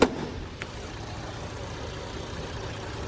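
A 2017 Ford Explorer XLT with a 3.5 liter V6 engine idles steadily close by, a low, even hum with a small click near the start.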